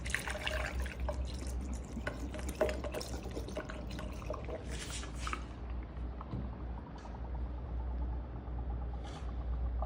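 Coolant trickling and overflowing from the radiator filler of a 2000 Honda Shadow 600 VLX motorcycle during a coolant flush, a faint continuous watery dribble with occasional drips, close by and without speech.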